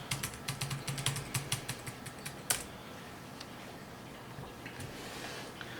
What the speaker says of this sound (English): I've then got to type in my password